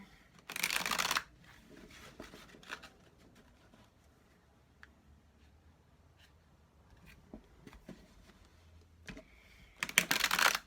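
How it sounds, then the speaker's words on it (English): Herbal Healing Tarot oracle cards are shuffled by hand, with soft riffling and tapping throughout and louder bursts of shuffling at the start and end, close by with no voices. "I shuffle until I feel a stopping point"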